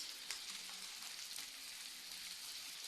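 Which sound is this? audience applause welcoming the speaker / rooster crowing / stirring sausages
stirring sausages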